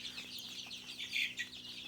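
Chickens clucking steadily in a small indoor poultry room holding about 300 birds, a soft continuous chorus of chatter and clucks at low level with no talking.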